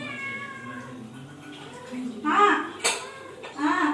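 A pet cat gives a few close meows that rise and fall, heard alongside a person's speech and a little clatter of dishes in a home.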